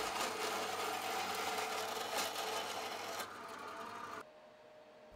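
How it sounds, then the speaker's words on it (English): A bandsaw makes a quick trimming cut through metal for a belt grinder build, a steady close whine that drops off abruptly near the end. "Let's trim that off on the bandsaw,"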